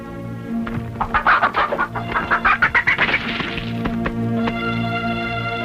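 Chickens cluck in bursts of rapid, loud calls over a steady droning background in an Indonesian film scene, with a sustained tone running under the flock throughout.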